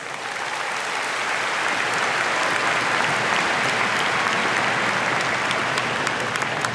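Sustained applause from a large audience at the 2022 Mililani High School graduation ceremony, a dense, steady wash of clapping that fills the whole stretch at even loudness, with no voices over it.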